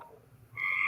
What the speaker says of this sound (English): Yep, that's a bullfrog.